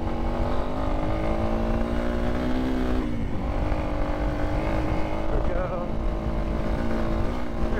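A Yamaha XT250 dual-sport motorcycle hums steadily while riding, its engine note dropping briefly around a gear change before climbing again, with faint talk underneath.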